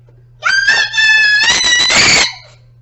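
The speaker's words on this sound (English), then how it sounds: "if I was any good at editing, I'd take out her screaming" A young child screams loudly and close up, one sustained high-pitched shriek lasting about two seconds that wavers briefly and then breaks off.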